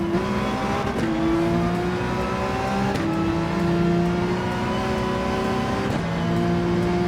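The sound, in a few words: Porsche 911 engine revving in video game Gran Turismo 7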